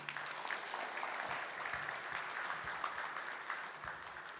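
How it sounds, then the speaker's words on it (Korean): Steady audience applause at a Korean aerospace vision event after a Boston Dynamics Spot robot dog performs on stage, heard as a continuous, fairly distant patter of many hands clapping with no speech over it. "박수 한번 부탁드립니다."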